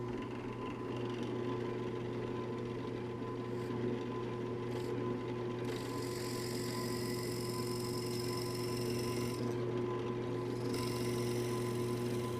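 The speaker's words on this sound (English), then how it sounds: "I have the long blank in, 7mm drill bit. We'll drill our hole for our tube in this blank." A drill press runs steadily with a 7mm bit boring a tube hole through a long olive wood pen blank, a constant motor hum with higher grinding tones rising as the bit cuts deeper, close and unbroken.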